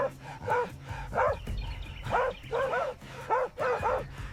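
An African wild dog gives a run of short, close yips and whimpering barks in uneven bursts with brief pauses between them.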